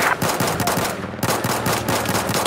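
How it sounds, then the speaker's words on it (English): Sustained machine gun fire in Battlefield 4 during a Siege of Shanghai match, dense overlapping bursts of rapid shots close by with no talk. "There's an enemy machine gun west of your position."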